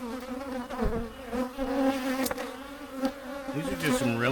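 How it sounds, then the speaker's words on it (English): Angry honey bees swarm and buzz loudly at a hive being removed, a dense continuous drone with shifting pitch as individual bees zip close past, filling the whole stretch. "These are just some really pissy bees."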